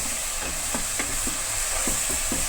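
Ginger and green chili paste fries in a pan with a constant high sizzle, while a spatula scrapes and stirs at a steady rhythm, close by and with no talk.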